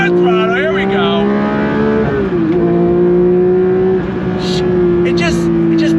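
A 2024 Porsche 911 S/T engine accelerating under throttle, a loud steady tone that climbs and dips briefly mid-clip before pulling on, with a voice talking over it.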